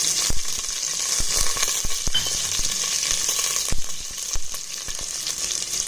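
Chopped large onions fry in hot oil with a constant crackling sizzle, punctuated by occasional clicks and scrapes of stirring.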